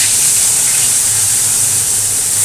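Fish frying in hot oil in a home kitchen, a steady loud sizzle with dense hiss that holds unbroken and close throughout, with no talk.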